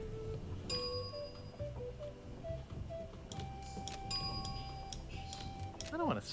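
A bell rings in the Monkey Island 2 adventure game, with several bright chimes struck over the game's background music and sound effects, moderately loud.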